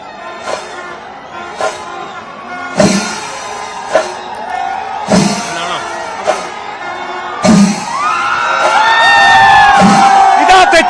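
A large festival crowd at Pooram cheers and whoops in repeated loud bursts as the elephant Thechikottukavu Ramachandran, bearing the Chembukkavu Bhagavathi image, emerges through the south gopuram gate, swelling into a sustained roar at the end, with someone talking over it.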